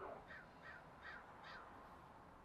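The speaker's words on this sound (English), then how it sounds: "Here comes another crow." A crow caws four times in an even rhythm, faint and somewhat distant, over a low steady background hum.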